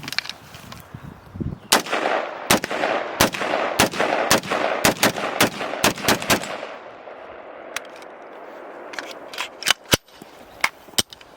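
An original Colt M16A1 rifle fires a string of sharp, loud single shots in quick irregular succession, about a dozen cracks with short ringing tails, followed by a few more spaced-out shots.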